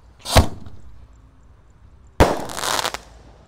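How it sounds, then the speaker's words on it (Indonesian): A 3-inch Bima Sakti Roman candle firework launches in the morning with two sharp whooshing bursts, a brief one first and then a louder, longer hissing shot about two seconds later, close by with no talk. "kalau ini ada Bima Sakti Roman Candle ukuran 3 inci. Kita nyalakan pagi ini. Sudah menyala. Siap meluncur."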